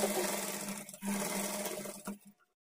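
A sewing machine stitches a blouse shoulder joint at a half-inch margin in three close bursts of whirring, pausing briefly twice, then stopping into silence.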